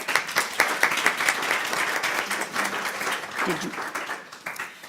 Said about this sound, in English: So if you could please join me in giving our students another round of applause.